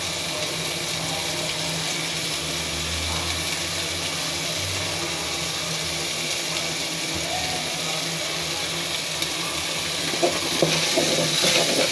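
Blended ginger, garlic and onion paste sautéing in oil with cinnamon and cumin while cooking a spiny eel curry, a steady close sizzle and bubbling hiss throughout, joined by faint stirring scrapes near the end.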